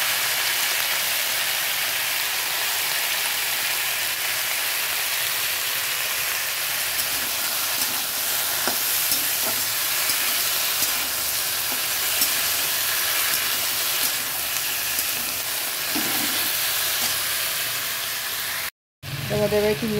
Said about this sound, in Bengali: এবার এই আলুটা আর টমেটোটা দিয়ে দিচ্ছি